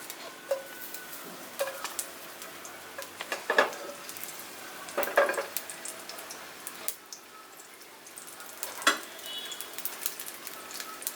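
Mustard seeds and garlic frying in oil in a pan for bottle gourd and moong dal stir-fry, a steady soft sizzle with intermittent pops and spatula scrapes, moderately quiet throughout with no talking.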